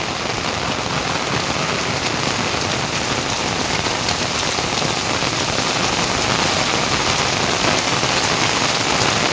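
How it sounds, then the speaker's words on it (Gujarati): The first monsoon rain of the season pours onto a village street, a loud, dense, unbroken hiss of drops on the ground that holds steady throughout. "અમારે તો અત્યારે વરસાદ ચાલુ થઈ ગયો છે."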